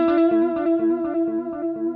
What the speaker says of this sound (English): This is just controlling how loud or how much this delay is added to the tone